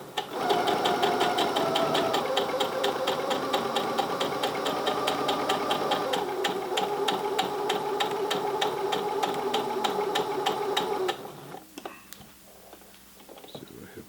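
A sewing machine stitches a hot pad in a fast, even run of mechanical clatter for about eleven seconds, then stops abruptly, leaving a faint quiet room.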